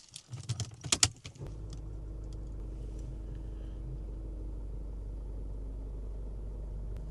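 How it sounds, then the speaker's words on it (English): Keys jingle and clatter briefly, then a Mercedes-Benz ML/GLE W166 engine catches and settles into a steady low idle rumble. "Let me start the car."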